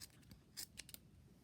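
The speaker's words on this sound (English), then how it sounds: "These scissors have about had it." Worn scissors snip through fabric during sewing, a few faint short cuts close together, quiet against a low background hum.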